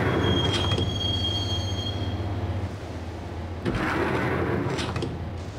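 A train rumbles along the rails with a thin, high squeal of its wheels. A steady low roar carries underneath, then a second burst of squealing, clattering noise rises near the end, close and loud with no voices.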